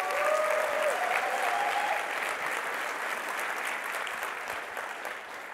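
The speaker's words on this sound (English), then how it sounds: "I'd ask that you'd give them another round of applause" A large audience gives a round of applause at a business talk, a dense and steady wash of clapping that sounds somewhat distant and fades slightly toward the end, with a faint voice briefly audible early on.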